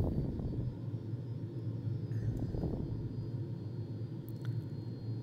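Fouga Magister jet engine in a flight simulator game, a steady loud rumbling drone that holds throughout with only slight swells, no voices over it.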